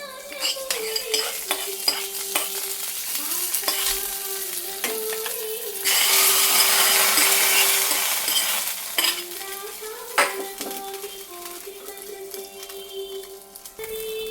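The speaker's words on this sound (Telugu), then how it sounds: "స్టవ్ కట్టేసుకొని మనం ముందుగా రెడీ చేసుకున్న దద్దోజనంలో వేసేసుకుందాము" Hot tempering is tipped into curd rice (daddojanam) and stirred in with a spoon, giving a soft sizzle and repeated scraping, clinking strokes against the pot that swell briefly midway, close and alone.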